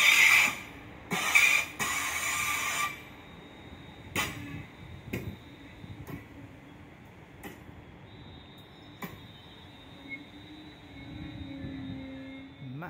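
High-pitched metallic squeals from train wheels ring out in short bursts early on, followed by sparse clanks and thuds of slow-moving wheels, fading into quiet, heard in the canal town of Stone.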